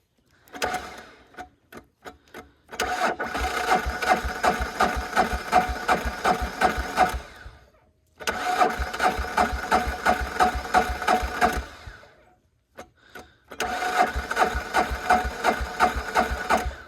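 A Polaris diesel 455 engine is cranked over on a cold morning after sitting for a few days, giving a loud, rapid mechanical churning in three long bursts with brief pauses between them and no start.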